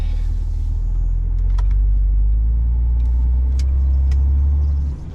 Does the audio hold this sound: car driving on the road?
yes